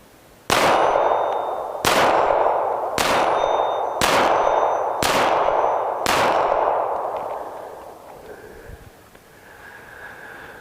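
Six loud, evenly spaced shots from a Glock 42 pistol chambered in .380 ACP ring out about a second apart at an outdoor range, each followed by a short metallic ring and decay before the firing stops.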